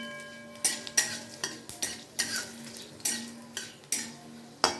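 Dried red chilli, bay leaf and panch phoron seeds frying briefly in oil, a soft sizzle punctuated by about a dozen sharp clinks and scrapes of a spoon stirring in the pan; no voices.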